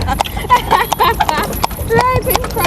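A horse pulls a cart along Agriculture Road in Guyana, its hooves clip-clopping in a steady, close rhythm beneath ongoing conversation.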